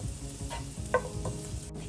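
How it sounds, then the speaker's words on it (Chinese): Garlic stir-frying in butter over low heat in a pan, with a soft continuous sizzle and a few light scrapes or clinks of the utensil stirring. "炒出蒜的香味。"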